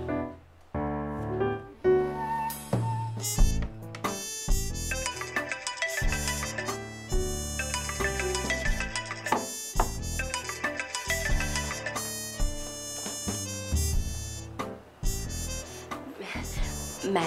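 A phone ringtone plays a bright, repeating melodic tune for an incoming call, loud and steady throughout, with brief voices in the background.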